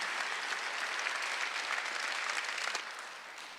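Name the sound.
congregation applauding in church service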